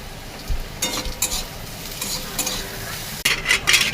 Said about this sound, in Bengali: আমার উচ্ছেটা লাল লাল করে ভাজা হয়েছে